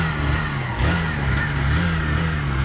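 A 100cc Honda Shine 100 DX motorcycle engine runs at a raised, steady idle just after starting, with a close, even hum and a slight dip and rise in pitch partway through.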